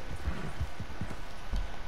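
Horse hooves clip-clop in Red Dead Redemption 2, a brisk, irregular run of soft thuds close by, with no voices over them.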